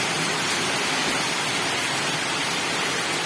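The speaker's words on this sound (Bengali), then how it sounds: "বৃষ্টির পানি সলসল সলসল পানি দেখ বৃষ্টি চলছে" Heavy monsoon rain pours down in North Bengal in a dense, loud, unbroken hiss, with no voices heard over the downpour.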